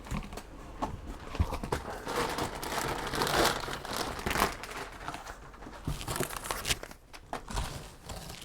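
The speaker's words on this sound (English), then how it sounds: "Piece of paper." Packing paper crumples and crinkles continuously while a Lenovo V530-22ICB all-in-one computer is being unboxed, with busy rustling, tearing-like bursts and handling noises, fairly close and with no talking.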